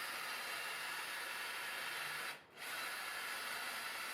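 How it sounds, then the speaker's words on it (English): A power drill boring a pilot hole in an oak stretcher for a coffee table, one continuous loud whirring grind that drops out briefly for a short pause near the middle, then resumes at the same steady pitch. "Once I had the hole started, I could then angle my drill to match the angle of the joint."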